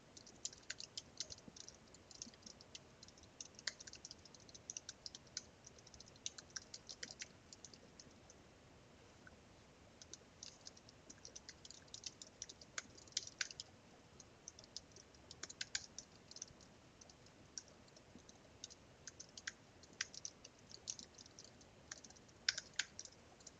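Keys of a computer keyboard tapped in quick, uneven bursts with short pauses between them, light and quiet against a near-silent room, no voice heard.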